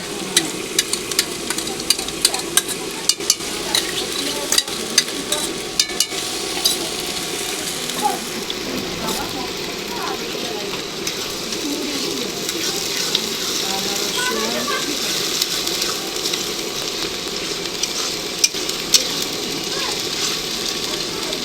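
Goat meat frying in a pan with ginger-garlic paste, a constant bright sizzle with scattered clicks of stirring and utensils, heard under intermittent talk.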